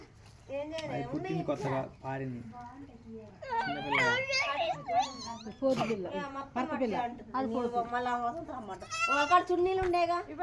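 Goats bleat repeatedly at close range in a rural yard, wavering calls overlapping with people talking nearby throughout.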